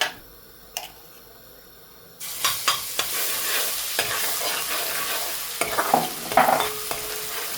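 Ginger garlic paste sizzles in hot oil in a pot while a spoon stirs it with repeated scraping taps, after a quieter opening of about two seconds.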